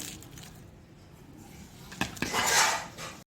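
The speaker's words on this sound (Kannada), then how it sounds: "ಇದರ ಸಿಪ್ಪೆನೆಲ್ಲ ಸುಲಿದು ಇದನ್ನು ಸಣ್ಣ ಸಣ್ಣದಾಗಿ ಉದ್ದುದ್ದಕ್ಕೆ ಕಟ್ ಮಾಡಿ ತಗೊಳ್ಳೋಣ" A knife slices peeled onions into thin lengthwise strips on a board for crispy onion bonda, with a couple of soft taps followed by a louder clattering scrape near the end. The sounds are close but fairly quiet.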